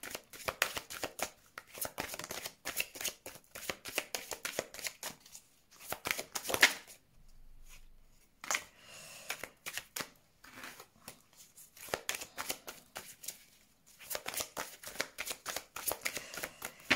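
Tarot cards shuffled for a reading, repeated crisp riffling and sliding bursts close by, quiet overall with short pauses between rounds of shuffling.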